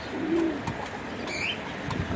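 Pigeons in a loft give a soft, low coo early on, over faint rustling and a brief higher bird note, with no talking.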